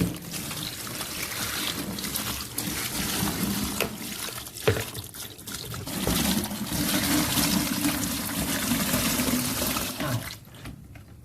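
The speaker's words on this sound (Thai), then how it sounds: "แล้วเดี๋ยวใส่น้ำลงไป เติมน้ำลงไป" Water pours steadily into a 4.5 kg mini washing machine, a loud, continuous splashing gush that runs for several seconds and then eases off.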